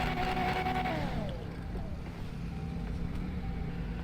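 A Nissan GT-R R35 3.5-litre V6 engine in a video game roars, its pitch sliding downward as it eases off, then settles into a lower rumbling drone with a faint whine on top.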